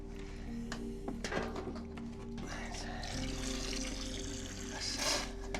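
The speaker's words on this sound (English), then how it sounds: "Could you pour that in there for me?" Liquid is poured into a container, a steady trickling and splashing running for several seconds amid faint room noise and some background hum, with no speech.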